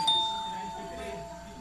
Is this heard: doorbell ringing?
yes